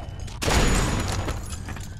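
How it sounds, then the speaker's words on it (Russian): Gunfire in The Walking Dead: 400 Days video game, a sudden loud burst that hits hard and then rumbles on as a dense, sustained crackle of shots and noise. "Стреляй в этого засранца."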